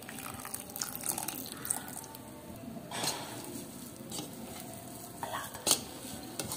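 A spoon stirs a mashed gulab jamun mixture with milk in a bowl, giving wet scraping, squelching and clinking sounds in uneven strokes, close and moderately loud.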